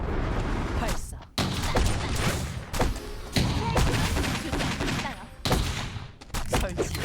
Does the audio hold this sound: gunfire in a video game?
yes